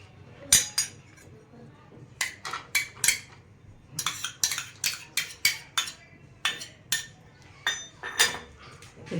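Chopped raw mango goes into a bowl while preparing a raw mango and onion salad, with a steady run of close, bright clinks and taps of a spoon against the dish.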